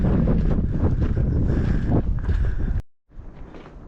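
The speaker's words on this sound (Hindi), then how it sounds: "ठंडी ठंडी तेज़ हवा भी चल रही है यहाँ ट्रैक पे इस वक्त।" Strong, cold wind buffets the microphone on a rocky mountain trek along a steep drop on the Shimshal Pamir Pass in Pakistan, a loud continuous roar that cuts out abruptly near the end, then resumes more softly.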